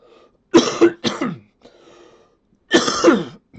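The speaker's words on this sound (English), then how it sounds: "Sorry about my coughing." Several harsh coughs from someone recovering from illness, in two bursts separated by a quieter pause, close and loud, with a faint throat-clearing rasp between them.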